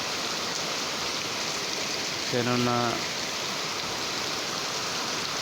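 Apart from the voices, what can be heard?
heavy rain falling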